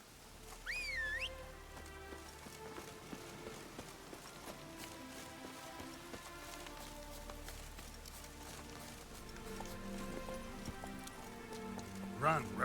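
Roach, a horse in The Witcher 3, gallops with quiet rhythmic hoofbeats under game music and ambient effects, fairly faint and steady throughout.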